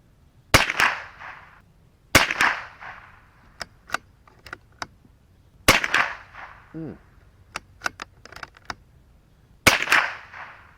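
Four sharp rifle shots of Remington Thunderbolt .22LR rimfire ammunition crack out at irregular intervals, each with a brief echoing tail, interspersed with small clicks and handling noises of the rifle's action.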